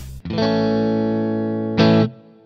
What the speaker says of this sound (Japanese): 綺麗なクリーントーン